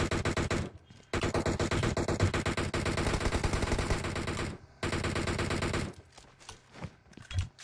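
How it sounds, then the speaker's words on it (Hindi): Rapid automatic AKM rifle fire in a mobile battle-royale video game, long sustained loud bursts broken by brief pauses, then scattered single shots and quieter movement at the end. "AKM चल रही है"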